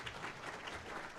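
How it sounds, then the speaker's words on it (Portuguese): Applause from a seated audience at a justice-sector union debate panel in Brazil, a steady dense wash of many hands clapping for just over a second with no voices. "Uma salva de palmas para o nosso colega."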